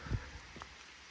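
Steady rain hisses softly, broken by a few scattered drip and tap sounds close by.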